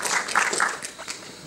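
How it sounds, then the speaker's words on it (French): Brief applause from an audience at a conference on micropollutants in the environment, a short burst of scattered clapping mixed with some voices that quickly tapers off. "Hélène Larosey, que je vous demanderai d'applaudir, qui est l'adjointe au maire de Biscarrosse."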